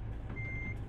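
Kenworth W900 truck in American Truck Simulator reversing, its backup beeper giving a steady high tone over a loud, constant engine rumble, with no talk.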